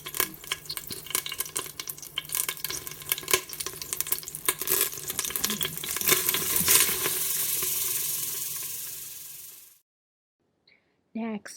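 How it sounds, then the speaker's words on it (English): Sliced onions sizzling in hot oil in a pot, a loud continuous crackling hiss with occasional stirring scrapes, lasting nearly ten seconds before cutting off abruptly. "Let's listen to that sizzle."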